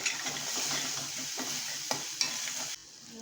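Ginger, garlic and green chili sauté in a hot pan with a steady bright sizzle, broken by a few sharp stirring scrapes and taps before the sizzle drops away near the end.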